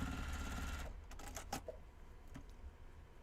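Sewing machine stitching a dress: a steady, low mechanical whir for about a second, then faint clicks and small handling knocks as the fabric is adjusted, heard up close and fairly quiet.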